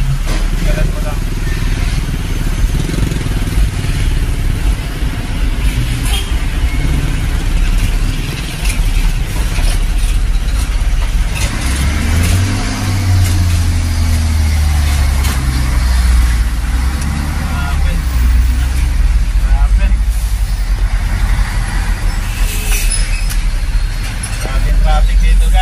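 Dense road traffic of passing cars and heavy trailer trucks, a continuous loud engine roar with low rumbling swells as big rigs go by, voices chatting over it.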